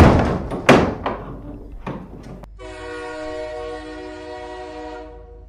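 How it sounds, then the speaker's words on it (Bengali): A door slams shut, followed by a sharp thud or two. Then a loud, sustained train horn blares and holds for several seconds while a train begins to move. "আর তখনই বিকট হর্ন দিয়ে ট্রেনটিও চলতে শুরু করলো।"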